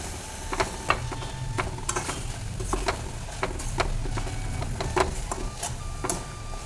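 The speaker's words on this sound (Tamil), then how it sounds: "இப்போ இதில் நம்ம ரெடி பண்ணி வச்சுருந்த மசாலா, தேங்காய், சீரகம், காஞ்ச மிளகாய், இதை நல்லா ஒன்று சேர கலந்து விட்டுடலாம்" Masala, grated coconut, cumin and dried chilli are stirred into a cluster bean stir-fry in a pan: scattered spatula scrapes and taps over a soft, steady sizzle.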